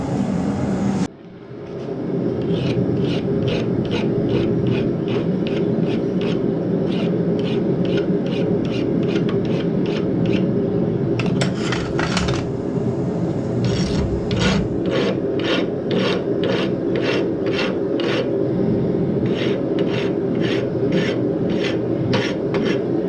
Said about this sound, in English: I'm gonna take this over and start hot filing this to shape it into a little